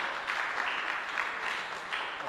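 An audience at a multidisciplinary academic conference gives a short round of applause, a soft, even wash of clapping heard from a distance with no talk over it.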